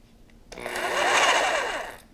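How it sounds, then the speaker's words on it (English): A DeWalt jigsaw powered from an Aguei portable power station starts after a short pause, its high buzzing motor whine swelling to a steady loud run for about a second and a half before cutting out abruptly. "Now a DeWalt jigsaw."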